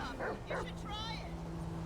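A dog in Grand Theft Auto V yips and whimpers in a few short, nervous barks near the start, followed by a higher whine, with game ambience underneath.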